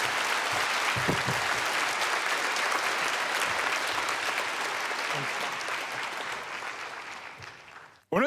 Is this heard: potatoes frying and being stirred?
no